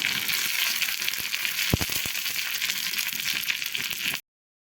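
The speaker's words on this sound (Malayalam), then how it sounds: "ഇനി കടുക്, ചെറിയുള്ളി, കറിവേപ്പില, വറ്റൽമുളക്, അല്പം കാശ്മീരി മുളക് പൊടി ഇത്രയും കൂടി ചേർത്ത് നമുക്കൊന്ന് വറുത്ത് താളിച്ച് ചേർക്കാം" Mustard seeds, shallots, curry leaves, dried chilli and Kashmiri chilli powder sizzle in hot oil as a tempering for Kerala mango curry, a loud steady crackle with a few sharp pops, ending abruptly.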